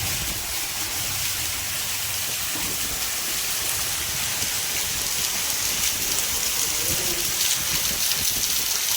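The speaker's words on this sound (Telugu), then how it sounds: "అతి భారీ వర్షాల్లో చాలా భారీ వర్షం అనమాట ఇది." Very heavy rain pours down in a dense, steady roar near a bridge by the sea, a loud continuous hiss with no let-up from start to finish.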